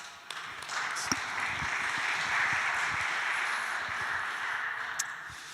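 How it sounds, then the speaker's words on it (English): Audience at a zero-knowledge cryptography summit applauds a speaker, a steady broadband wash of many hands clapping at moderate distance, holding evenly throughout with a few sharper individual claps standing out. "Let's give a round of applause to Michael,"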